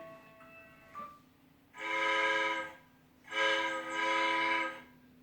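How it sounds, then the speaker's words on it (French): Train pulling in at a station platform, sounding a loud harmonic horn in two long blasts over a low steady rumble, preceded by a brief fainter whistle-like tone. "Rémi est déjà sur le quai. Le train arrive."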